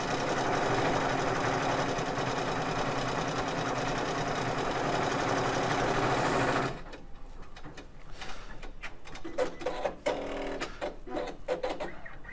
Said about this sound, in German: Man kann hier sehen, wie lange der ganze Stickprozess dauern würde.